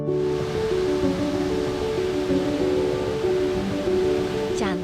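A tiered waterfall at Geopark Ciletuh flows gently between rock cliffs. It makes a steady, even rush of water throughout, with sustained musical tones layered over it.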